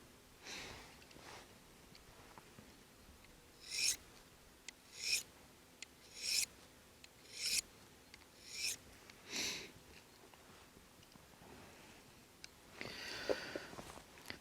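A knife drawn across a Lansky Blademedic diamond sharpener, about eight distinct rasping strokes in a regular rhythm, quiet and close in an otherwise still room.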